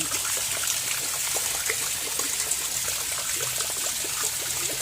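Steady water trickling and splashing from a shower into a pool outside a house, a continuous close-up stream pattering down into water with no voices.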